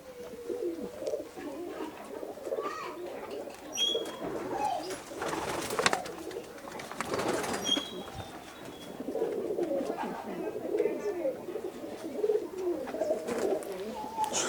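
Golden kamanga pigeons at a pigeon sale in Kolkata give repeated soft, throaty coos that overlap in a steady back-and-forth, with occasional faint chirps and brief background noises.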